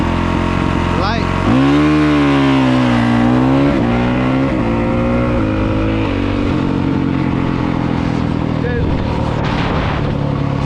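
A dirt bike engine revs up for a launch, a loud rising whine that climbs and wavers through several pitch swoops, heard close and continuous with a voice speaking briefly.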